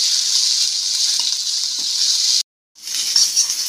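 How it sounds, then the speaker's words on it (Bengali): Sliced onion and green chillies fry in hot oil in a wok, a loud, close, bright sizzle that runs steadily, cuts out briefly near the end, then resumes. "পেঁয়াজ আর লঙ্কা খুব ভালোভাবে ভেজে নেব"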